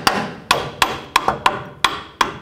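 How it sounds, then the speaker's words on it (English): A hammer strikes the front upper control arm of a 2007–14 Chevy Silverado seven times, each a sharp, ringing metallic blow that fades quickly, in an irregular rhythm at close range. "don't be afraid to use a hammer"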